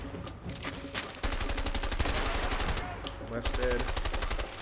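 Gunfire in the video game A Way Out, with rapid machine-gun bursts and rhythmic automatic fire continuing loudly throughout, and a person briefly talking over it.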